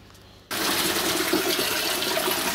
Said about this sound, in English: So I've filled the water back up.